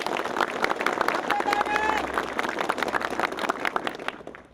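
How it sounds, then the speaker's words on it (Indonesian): Soldiers in a crowd clap during a cheer session. The applause is dense and busy, with voices and chanting mixed in, and it thins out near the end. "Tepuk tangan."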